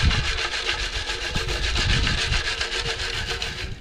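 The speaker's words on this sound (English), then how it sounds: "as we're shaking, the pebbles are actually rising up to the top" A gold pan holding pebbles, sand and water is shaken steadily, giving a continuous close gritty rattle and rub of stones sliding around without pause.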